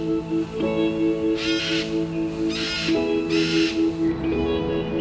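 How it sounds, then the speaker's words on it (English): Wild parrots call in the concrete surroundings of Hong Kong, giving three or four harsh, raspy squawks in short bursts over a steady hum of city background. "these beautiful, boisterous birds have found a new home in the concrete jungle."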